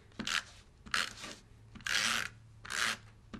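Adhesive tape pulled and pressed onto a paper card in several short rasping bursts, close and fairly quiet, with brief pauses between each rub.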